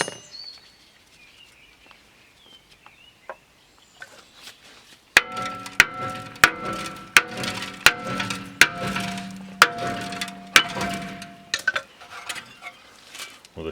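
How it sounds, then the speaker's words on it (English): A metal brake disc on an Audi A4 B8 rings out under a series of sharp hammer taps, about ten strikes at an uneven steady pace after a quiet start. "With a few taps of the hammer it'll pop straight off."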